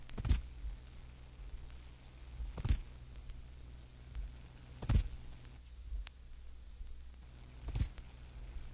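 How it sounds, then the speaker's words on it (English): A Henslow's Sparrow repeats a very short, hiccup-like high chirp four times at spaced intervals, each note brief and distinct against a quiet, low-humming background. "231, Henslow's Sparrow."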